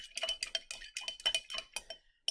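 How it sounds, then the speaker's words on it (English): Potassium permanganate solution with added sodium hydroxide being stirred in a beaker, giving about a dozen quick, light, irregular glassy clinks and taps, close and fairly faint. "Stir it up."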